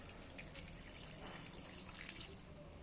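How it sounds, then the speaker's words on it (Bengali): Water poured from a vessel into a cooking pot holding chunks of potato and kohlrabi, a faint, steady trickle and splash heard close and alone. "এইবার আমি এর মধ্যে খানিকটা জল দিয়ে দিচ্ছি"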